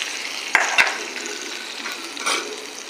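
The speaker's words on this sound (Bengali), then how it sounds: "দিয়ে এই ফোড়নটা ব্যাটারের মধ্যে, চাটনির মধ্যে ঢেলে দিলাম।" Hot tempering with curry leaves is poured into coconut chutney and stirred, giving a brief sizzle with two sharp knocks early on and then softer scraping and mixing at close range.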